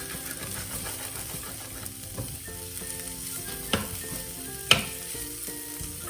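Potatoes sizzle steadily as they fry in a pot for an aloo baingan (potato aubergine) curry. The crackle is close and continuous, with two sharp clinks partway through and no talking.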